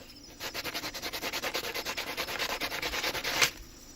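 Rough rhythmic rubbing as a jungle sandpaper leaf is scrubbed back and forth over a brass stud, about twenty quick even strokes ending in a sharp scrape, close and fairly quiet.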